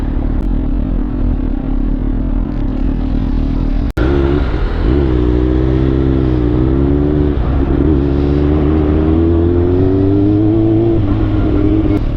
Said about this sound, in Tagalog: pagka napapakinggan mo yung scream ng motor mo nakakatawa lang talaga